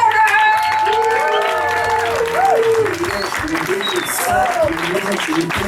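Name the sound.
audience applause for comedian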